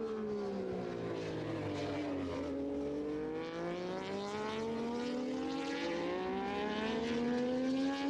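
Moto3 race motorcycles, a front group of about a dozen, scream down Silverstone's Hangar Straight, their high-revving engines rising and falling in pitch together as a loud continuous wail.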